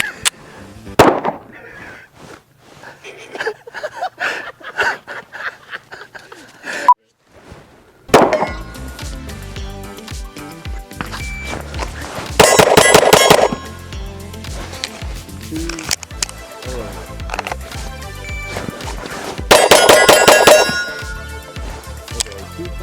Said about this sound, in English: today we'll be doing our first shots on the M&P Shield Plus